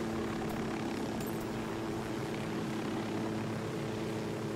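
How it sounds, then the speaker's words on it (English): Helicopter flying in the video game Ghost Recon Wildlands, a steady rotor and engine drone that holds at an even, moderate level throughout with no talking. "Just like this chopper ride."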